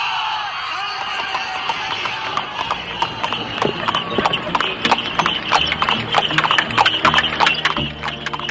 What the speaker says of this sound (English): This horse-drawn carriage that is taking us along is from those very times.